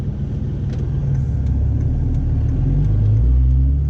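A warmed-up truck engine idles with a steady low rumble, close and continuous, with slight swells in pitch and loudness toward the end.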